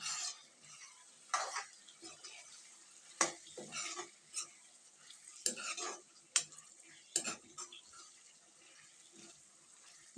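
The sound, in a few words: stirring vegetable stir-fry in a pan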